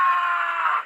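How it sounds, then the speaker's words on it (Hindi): One loud, sustained scream rings out for nearly a second in a dramatized mafia scene set in a private room, then cuts off abruptly. "तभी एक जोरदार चीख पूरे प्राइवेट रूम में गूंज उठी।"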